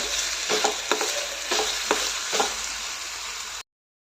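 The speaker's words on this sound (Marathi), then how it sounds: "मीठ घालून चांगलं परतून घेऊया" Potatoes are stir-fried with salt in a pan for a halwai-style potato bhaji, with a steady sizzle and about five distinct scraping stirs spaced roughly half a second apart, close and fairly loud, with no talking.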